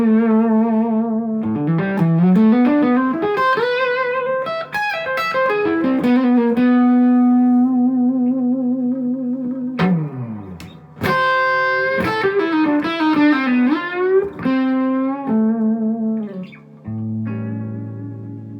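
Electric guitar through a Tone City Sweet Cream Bullseye overdrive pedal plays mildly gritty melodic runs and bends with sustained notes and a few sharp chord stabs, close and loud with no talking.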